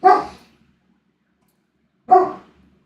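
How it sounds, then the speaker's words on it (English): A big dog gives two loud, close barks about two seconds apart, with silence in between. "Big dog."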